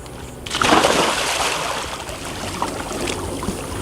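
A splash as a person jumps from a boat into water, followed by sloshing and bubbling that fades into gentle lapping.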